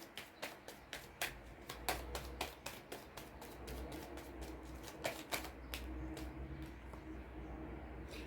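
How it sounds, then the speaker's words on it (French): Tarot cards riffle and flick through a deck in a quick series of crisp papery snaps, close up, then settle into a softer steady rustle. "Je vais tirer une dernière carte."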